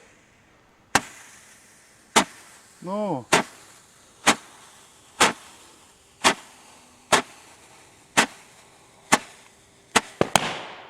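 Roman candle fireworks fire about ten sharp pops at a steady pace, each a loud crack with a brief fizzing tail, and a whistling shot partway through, shooting at balloons.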